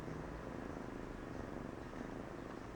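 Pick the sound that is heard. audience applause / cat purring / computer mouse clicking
cat purring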